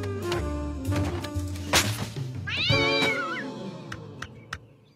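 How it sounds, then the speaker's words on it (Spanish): A cat meows on a television channel, a clear drawn-out mew rising and falling near the middle, with other softer sounds around it and no talk. "¿200 canales y solo veo gatos?"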